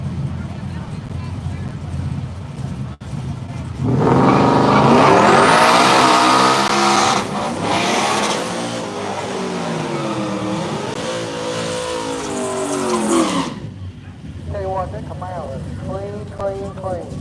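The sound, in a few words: all-wheel drive Ford F-150 drag racing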